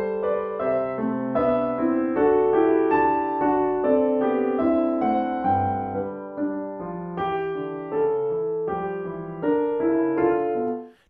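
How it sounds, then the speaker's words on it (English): Dry piano sample played in a very large sound-stage room with no added reverb, a clear sequence of sustained chords and melodic notes at steady moderate loudness throughout. "It's the sound of a piano in a very large room, and it's a sound stage"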